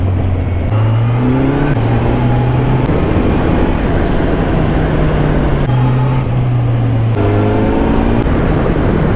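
A Kawasaki Z900 motorcycle engine rides up a mountain road, its steady loud drone climbing in pitch through several rev rises and gear changes, with continuous wind rush over the whole run and no talking.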